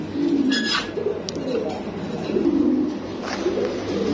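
Sirazi pigeons, a big-sized pair, coo repeatedly in a low rolling rhythm, close by over steady background noise.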